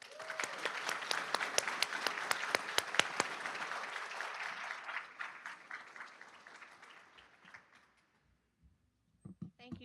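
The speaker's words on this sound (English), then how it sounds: "give our inductees a brief applause" Family, friends and faculty clap for inductees at a college honor society induction ceremony, a strong, dense round of applause that gradually thins and fades to silence, followed by a few faint sounds.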